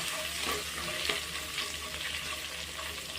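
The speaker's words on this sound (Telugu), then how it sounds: "అలాగే 1 టీ స్పూన్ అల్లం వెల్లుల్లి పేస్ట్ వేసుకొని ఇవి రెండు పచ్చి వాసన పోయేంత వరకు మంచిగా కలుపుతూ" Ginger garlic paste frying in a pan while being stirred, a dense continuous sizzle with soft scraping movements throughout.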